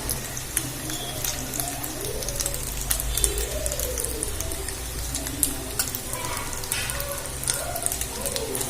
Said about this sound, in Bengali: আমার পনিরটা ভাজা হয়ে এসছে। আমি লাল লাল করে ভেজে নিচ্ছি।